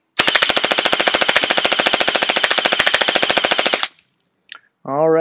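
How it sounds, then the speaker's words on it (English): An Anstoy AKM 47 gel blaster fires Chermory gel beads in a long, steady full-auto stream of rapid mechanical clacks, loud and close, stopping abruptly; a voice begins right after. "Got them in an uh, Anstoy AKM 47. Gonna go ahead, check it out."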